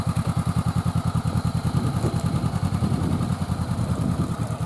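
Motorcycle engine on a training course, running at a steady, low, throbbing pulse with a mechanical clatter, close and continuous throughout with no voices.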